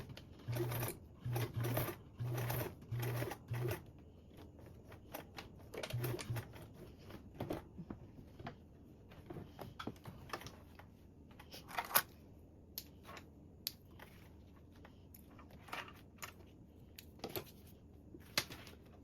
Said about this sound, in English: Now we can sew this in place with a 1/8 seam allowance followed by a 1/4 seam allowance.